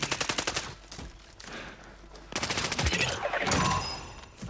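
Rapid automatic gunfire bursts from the Call of Duty video game, repeated volleys with short gaps between them, loud and close, with faint voice activity mixed in.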